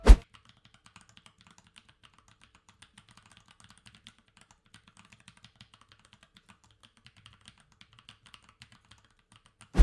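Typing on a keyboard fitted with Baby Kangaroo tactile switches gives a rapid, uneven stream of faint, crisp clicks and taps, close and quiet, with a sharp thump at the start and end.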